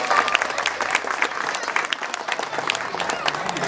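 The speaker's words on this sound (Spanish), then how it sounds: "Yo quiero un aplauso poderosamente para doña Vicenta Vélez." Dense, steady applause from guests at a neighbourhood association's Christmas dinner, filling the whole stretch at even loudness with crowd voices mixed into the clapping.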